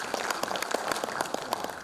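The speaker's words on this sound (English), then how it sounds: "A round of applause for him, please." Auditorium audience at a literary festival in Rang Ghar clapping, a short burst of applause where separate sharp hand claps stand out within a moderately loud crowd patter.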